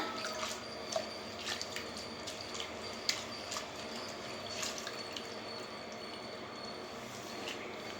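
Coriander leaves being washed under a tap for a Telugu coriander pickle, a soft continuous stream of running water with faint splashes and drips, steady and low, with no voices.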